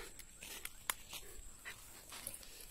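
A hunting dog pants in a forest during a hunt, faint quick breaths with small whimpers and scattered rustling, close but quiet and without talk.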